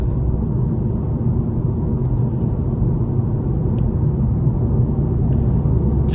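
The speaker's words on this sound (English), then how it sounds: "Just going to get the car up to speed." A 2014 Mercedes A250 picking up speed on the road, heard from inside the cabin as a steady low engine and road rumble that holds even throughout, loud and close, with no talk.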